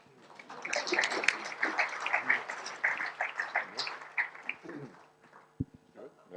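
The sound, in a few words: audience applause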